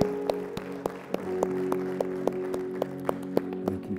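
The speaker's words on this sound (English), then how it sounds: "Let's give the Lord a hand clap of praise." A church congregation gives a hand clap of praise, with sharp separate claps sounding at a fairly steady rhythm over a sustained tonal drone of organ or keyboard.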